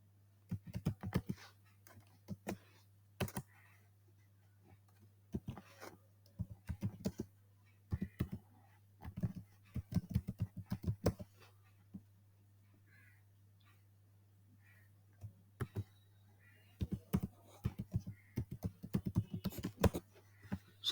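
Code is typed on a computer keyboard in irregular bursts of close, crisp key clicks separated by pauses, over a low steady hum.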